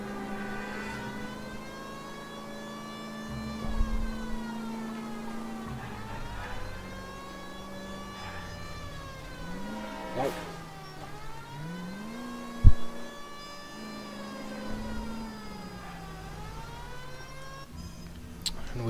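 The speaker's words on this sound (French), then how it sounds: "Autant profiter de la sirène." A police car siren wailing while driving in the game L.A. Noire, a steady rising and falling tone looping for the whole stretch over a low car engine, with a few bumps and knocks along the way.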